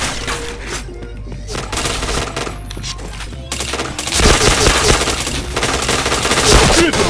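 Bursts of automatic gunfire ring out in the Point Blank shooter game, loud and dense, with rapid shots and heavier volleys in the second half under faint game sound.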